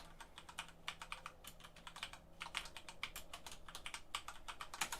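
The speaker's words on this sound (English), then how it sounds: "I'll type it." Typing on a computer keyboard, a quiet, fast patter of key clicks in uneven bursts, close by with no talking.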